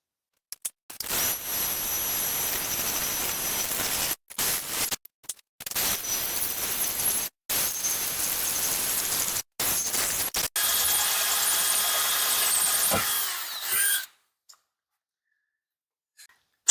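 A Parkside tile drill bit whines loudly in several long bursts, grinding through hard porcelain tile, with brief pauses between runs before stopping.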